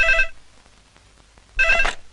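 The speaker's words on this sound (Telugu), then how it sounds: "అదిగో ఆయన ఫోన్." A telephone bell rings in two loud bursts separated by a quiet gap of about a second, clear and close, with no one speaking over it.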